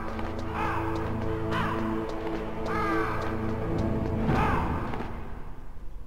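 Repeated harsh cawing from crows in the Metal Gear Solid video game, several calls spaced over a few seconds against a steady game soundscape.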